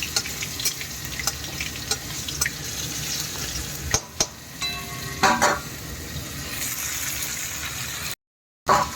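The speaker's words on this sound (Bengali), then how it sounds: "আর এখানে 5 মিশালি সবজি ভাজা করব, দিয়ে দেবো শুকনো লঙ্কা," Mixed vegetables fry with dry chili and black cumin in hot oil, a steady close sizzle broken by a few sharp stirring clatters near the middle.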